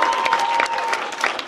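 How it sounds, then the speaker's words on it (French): An audience at a French film premiere of Alad'2 claps for the director, loud and dense applause that holds steady and then eases slightly. "vous pouvez l'applaudir très fort"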